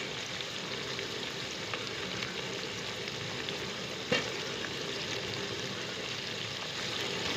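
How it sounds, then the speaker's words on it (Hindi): Onions and potatoes fry in oil for chicken tikka biryani, a steady soft sizzle and crackle close by, with a single sharp clink of a utensil midway and light stirring, no talking. "प्याज डालकर थोड़े फ्राई करने ही हैं।"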